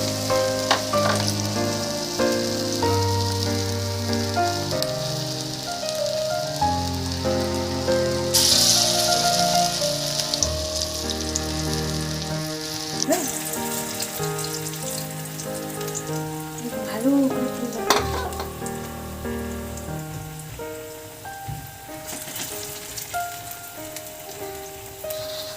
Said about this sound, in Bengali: হাতের সাহায্যে একটা সুন্দর করে রাউন্ড শেপ দিয়ে তেলের মধ্যে ছেড়ে দিচ্ছি